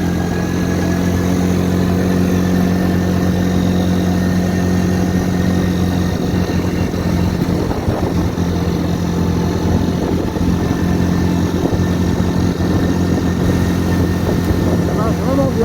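Kymco MXU 150 quad bike climbing a steep slope, its small engine droning steadily and loudly up close at light throttle the whole time, with someone talking over it.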